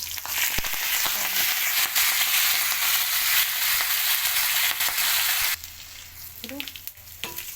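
Onions and fenugreek fry in a pan with a loud, steady sizzle and scattered stirring clicks, then the sizzle drops to a quieter crackle while a voice speaks briefly near the end.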